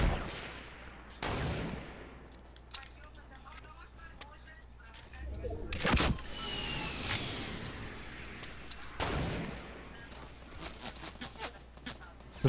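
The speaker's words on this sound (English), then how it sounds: "They're trying to shoot the rocket." Players in Fortnite fire at a rocket, and scattered sharp gunshots crack out in a few separate bursts. Between the shots there is game noise, and voices talk over it.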